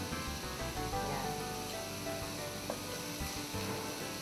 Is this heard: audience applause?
no